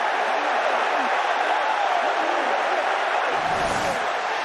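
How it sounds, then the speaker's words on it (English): A Premier League stadium crowd roars after a Brentford goal against Arsenal, a loud, sustained wall of cheering that fills the whole stretch and dips slightly near the end. "this place is bouncing. How good it is to have crowds back. With that noise, that reaction."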